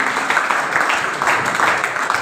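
An audience at a Bhaktamar recitation class led by a Jain aryika gives loud applause, a dense, continuous burst of clapping that lasts about two seconds.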